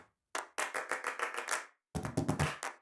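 A cappella choir singers performing body percussion, foot stomps and chest claps in a complex rhythm: two bursts of sharp, close percussive hits in quick succession, separated by a short pause.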